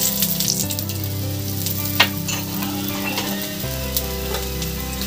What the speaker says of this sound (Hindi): इसमें नीचे से भी किनारे किनारे तेल डाल देंगे